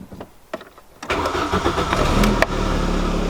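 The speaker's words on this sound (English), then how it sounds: "I'm going to start the car, wiggle it around, and see if I can't make the car die." A few light clicks come first, then a car engine cranks and catches, settling into a loud, steady running rumble close by. No one speaks.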